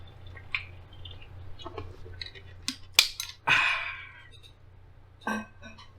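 Water poured or sipped near the microphone during a live podcast recording, a few small wet splashes and gulps standing out briefly and faintly against a quiet room hum, with no talking.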